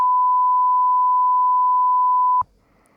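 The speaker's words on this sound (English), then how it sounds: "I can bleep it out" A steady censor bleep, a pure sine tone about two and a half seconds long covering a spoken phone number, sounds loud and unbroken, then cuts off abruptly into near silence.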